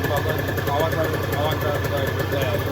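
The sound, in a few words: Aprilia RS50 engine revving while still cold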